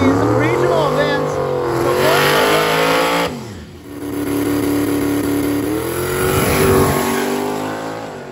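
A car does a burnout at a regional drag racing event, its engine revving hard and loud up close with rising and falling pitch, tire squeal noise between the revs, and voices faintly underneath.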